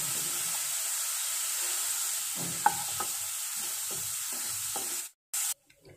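Sliced onions frying in oil until light brown, a steady loud hiss with a few stirring knocks, cutting off abruptly near the end; no one speaks.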